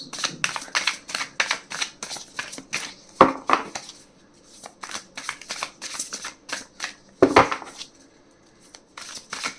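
Tarot cards drawn one after another from the deck during a pick-a-pile reading, with crisp papery flicks and slides in quick bursts, two sharper snaps standing out, close and fairly loud with no talk.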